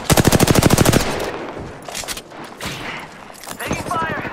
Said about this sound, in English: Taking fire. Opening fire.